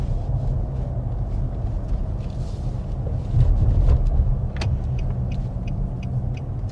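Car driving along Georgia 45 at the edge of the small town of Plains, Georgia, a steady low road rumble and tire noise heard from inside, with a slight swell midway and light wind buffeting.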